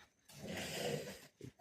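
A dog growls at night in a low, rough, breathy rumble lasting about a second, followed by a short snort, heard fairly close.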